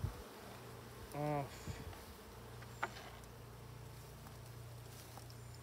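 Honeybees hum around an opened beehive with frames of foundation during a hive inspection, a faint steady low buzz with a few individual bees droning briefly close by, over quiet background.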